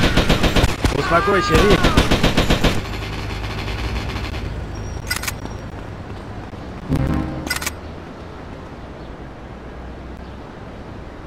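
Gun firing in rapid bursts, loud and close, with a sharp rattling volley at the start and a shorter burst later, while someone speaks briefly in Russian.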